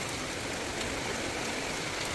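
Rain water splashes in a dense, steady wash of hiss and patter, continuous and fairly loud, with no voices.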